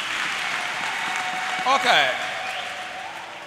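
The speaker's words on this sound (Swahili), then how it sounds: "Tumpigie Yesu makofi mengi mengi" A church congregation applauds in a steady wash of clapping through a hall, with a short spoken word and a brief voice rising in the middle.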